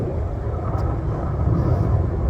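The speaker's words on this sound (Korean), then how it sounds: "가끔 비행기가 여기 많이 지나가는데 비행기 소리가" A broad, steady roar of an airplane passing overhead fills the whole stretch, loud and continuous with no breaks, as a low rumbling wash behind a quiet indoor space.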